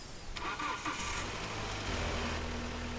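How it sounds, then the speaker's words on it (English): A car engine cranks briefly and catches, then settles into a steady low idle, heard up close and fairly quiet. "To do this, I'm gonna start up the car first."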